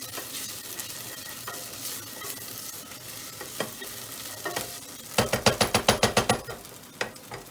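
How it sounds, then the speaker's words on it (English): Onion and carrot being stirred in a pan for tomato soup: a soft background sizzle with occasional scrapes, then a quick burst of about ten rapid, evenly spaced stirring taps near the end. "we just stir all of that in so that it nicely coats everything, the onion and the carrot"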